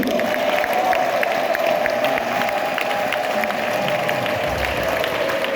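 A church congregation clapping together, a dense steady wash of applause that fills the room and holds at the same loudness throughout, with a faint sustained tone underneath.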